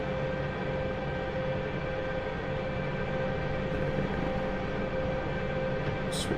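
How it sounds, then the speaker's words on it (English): Chinook helicopters approach in the DCS flight simulator, a steady loud droning rotor and engine hum with tonal whine that holds constant throughout, with a brief faint click near the end. "Chinooks coming in."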